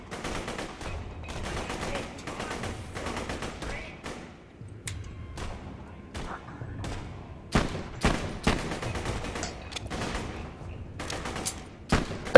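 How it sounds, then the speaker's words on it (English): Rapid bursts of automatic gunfire and single shots from the Borderlands 2 shooter game on PC, dense and sustained, with occasional heavy thuds and players' voices talking underneath. "The bullets fly everywhere."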